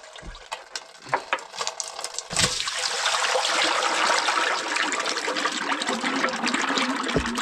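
Water pouring and splashing out of a Soviet bulldozer, left behind from pressure washing, starts as scattered drips and then becomes a steady, close rushing stream that runs on for several seconds.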